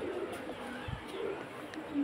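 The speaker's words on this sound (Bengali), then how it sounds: "পাখিগুলা সকালবেলা যখন ডাকে, হ্যাঁ, মনটা একদম ভরে যায় আমার।" Pet birds call in a home, producing a brief low cooing note with faint chirps over steady room noise; birds hatch and raise chicks in this setting.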